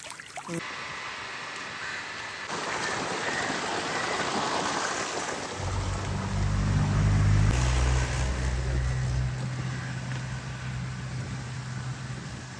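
Irrigation water from a dam rushes steadily through a farm channel in Tamil Nadu fields, a loud, continuous broadband flow with a deep low rumble swelling midway, heard alone without voices.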